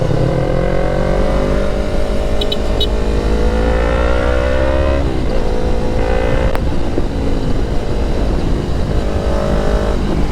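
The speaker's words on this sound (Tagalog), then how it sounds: "Nakakamiss yung auto blip nya. Yan kalakas ang R3." Yamaha R3 motorcycle revving hard and close, loud rising engine tones that climb, drop sharply with quick auto-blip downshifts, then climb again over a steady roar.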